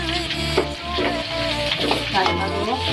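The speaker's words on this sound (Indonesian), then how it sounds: "Tumis ya Bu bumbunya Bu." Spice paste sizzling and frying in a pan for bakso jagung while being stirred, a continuous loud crackle with scraping strokes, close up.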